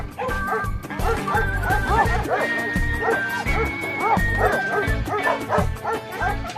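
A dog barks loudly and rapidly nearby in a long excited string of yaps and yips, with voices overlapping in the background.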